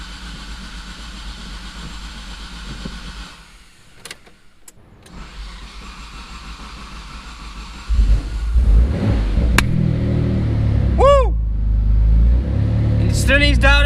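A Mitsubishi 3000GT VR4 with its twin-turbo 6G72TT engine cranks and starts, rising into a loud, close, rumbling idle with a few revs, after someone speaks over it.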